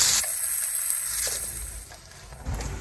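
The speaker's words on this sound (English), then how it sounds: "We'll allow it to saute for a few minutes." Garlic sautéing in a pan for a green banana and saltfish casserole, giving a steady close sizzle and hiss that eases off slightly toward the end, with a soft clatter near the close and no talking.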